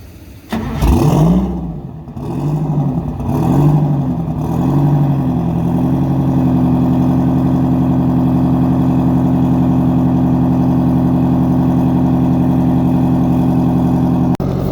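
A bus engine cranks and fires up close by, revs unevenly for a few seconds, then settles into a loud, steady idle that continues to the end.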